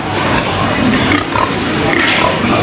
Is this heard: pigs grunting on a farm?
yes